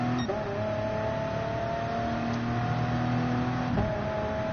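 A race car at the Le Mans circuit in a racing video game holds a steady, loud engine drone, with quick pitch drops near the start and end as it brakes and shifts down, and no voices.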